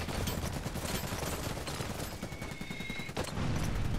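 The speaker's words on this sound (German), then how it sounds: "Hier knallen sich alle ab, ohne dass was passiert." Dense, continuous gunfire in the real-time strategy game Iron Harvest, rapid overlapping shots and bursts forming a loud, unbroken battle din.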